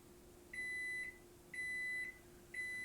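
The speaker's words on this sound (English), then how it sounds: "Sorry about the alarm on the microwave" A microwave oven alarm gives three steady, evenly spaced beeps about a second apart, each lasting half a second, fairly clear over a quiet room hum with no talking.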